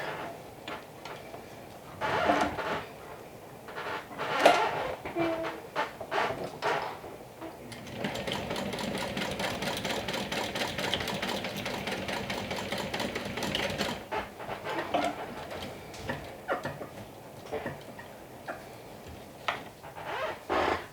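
A sewing machine stitches down an adjustable double-slider bag strap, a continuous fast mechanical whir running for several seconds between quieter handling clicks and shifts of fabric, close and moderately loud.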